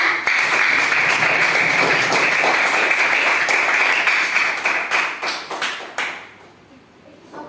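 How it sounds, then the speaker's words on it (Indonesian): A class of students applauds after their presentations on school, community and life rules, with loud, dense clapping that thins into scattered claps and fades out near the end. "Jadi tepuk tangan untuk kalian semua"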